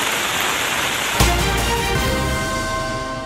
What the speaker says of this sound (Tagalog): Bukod sa lakas ng ulan na dala ng bagyong Krising